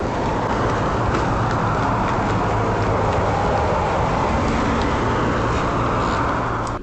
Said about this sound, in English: a car appears to drive near the property off camera, casting light into the yard